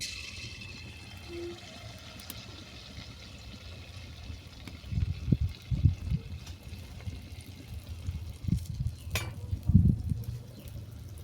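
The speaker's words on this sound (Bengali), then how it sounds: "অল্পটুকুনি ব্যাটার দিয়ে দেখব তেলটা গরম হয়েছে কিনা" A little jackfruit batter dropped into hot oil to test its heat for fried pitha, giving a soft, intermittent bubbling sizzle in short bursts that rise and fall, fairly quiet and close, with no talk.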